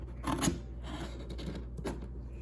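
Scissors slice through the cardboard packaging of a large Hammond Collection Tyrannosaurus rex toy box, with a few rasping cutting strokes and scraping close by over a steady low hum.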